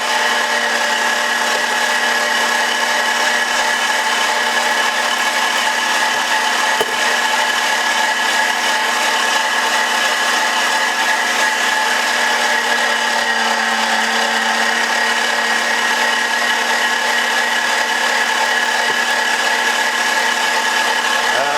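A Sunmile SM-G50 electric meat grinder grinds whole prey animals for tegu food, giving a loud, steady motor whine with a constant hum and rough grinding texture that runs unbroken throughout.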